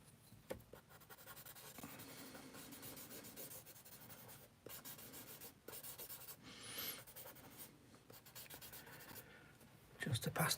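Charcoal scratching and rubbing across paper while a Marilyn Monroe portrait is sketched; close, faint, continuous strokes with brief pauses, recorded alone.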